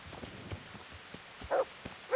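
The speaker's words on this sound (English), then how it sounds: "then I'll jump on the horse" Horse hooves clip-clopping in the medieval game Kingdom Come: Deliverance, faint scattered steps at first, then two louder, closer hoof clops near the end, with no talk over them.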